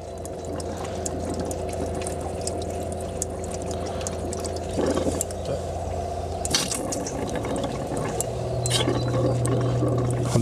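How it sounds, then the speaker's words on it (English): A Shurflo water pump in a Hillside Leisure Dalbury campervan runs dry while draining the pipes, a constant motor drone with gurgling and sputtering water and a pitch change near the end. "So what we're going to do now is just drain all the pipes and the pump dry."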